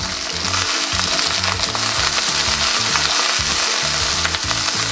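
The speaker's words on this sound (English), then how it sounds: "After about a minute, we're going to give them a quick stir." Cut snake beans frying in oil in a pan, a loud steady sizzle with dense crackling and repeated stirring scrapes, close up throughout.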